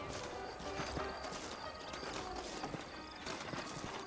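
Horse hooves in the Red Dead Redemption video game clopping in a steady, brisk rhythm under a dense wash of background game sound, fairly faint and continuous throughout.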